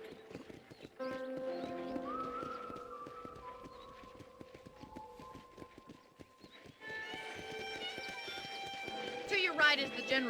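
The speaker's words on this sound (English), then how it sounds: "I picked out a fine horse for you." Horse hooves clip-clop at a steady walking rhythm in the video game Red Dead Redemption, beneath game music and someone speaking, with a brief whinny.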